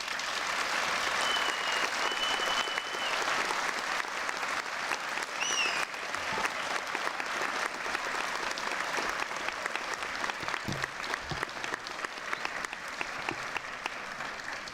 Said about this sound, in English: could we have a really big round of applause?